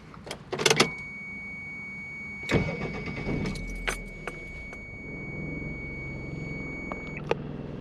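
A 1997 Toyota Tercel CE engine cranks and catches after some keys jangle and clicks inside the car, then settles into a quiet, steady idle with occasional small clicks.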